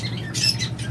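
A squawk from pet birds such as lovebirds, budgerigars or cockatiels, locally bred and kept for sale, rises sharply mid-moment over a low hum, with a fainter call after it.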